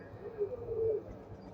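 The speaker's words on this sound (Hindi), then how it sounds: "ये तार वाले कबूतर हैं भाई" A tar wale pigeon gives a single drawn-out coo, close and fairly clear over faint background noise, with no talk.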